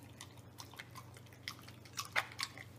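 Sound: mastiff puppy crunching raw food

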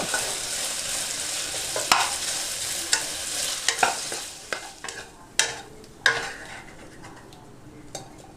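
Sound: Chinese sausage (kun chiang) frying in a pan

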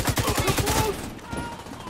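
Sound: suppressed gunfire in video game The Division 2

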